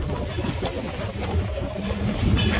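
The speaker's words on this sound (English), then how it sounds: "Runaway mine train" The Runaway Mine Train roller coaster at Alton Towers rumbles and rattles along its track nearby, a continuous loud clattering roar that builds toward the end.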